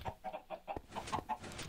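Video-game chickens cluck in a quick series of short, soft, rhythmic clucks at a low level, with no voices.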